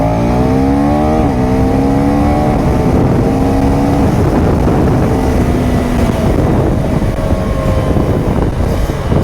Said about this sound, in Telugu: చాలా స్మూత్ అయిపోయింది ఇంజన్